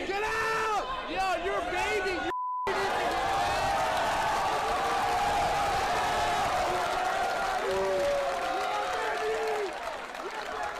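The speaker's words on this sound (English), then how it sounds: "his crowd approved because they were chanting and rooting for him" A crowd at a Ben Shapiro event chants and cheers, a dense steady wall of voices with rising whoops and rhythmic shouting, loud and close, with a brief silent cut early on.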